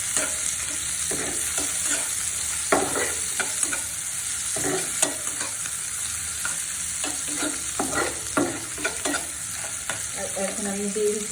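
Dal with olive pickle cooking in a pan, stirred steadily with scrapes and clinks over a continuous loud sizzle, no voices.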